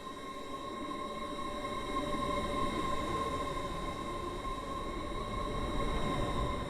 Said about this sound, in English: The train now approaching platform 9 terminates here.